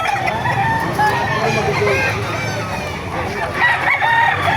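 Roosters crow repeatedly amid a busy, crowded chicken market in Baliuag, Bulacan, with constant clucking and crowd chatter and several overlapping crows near and far.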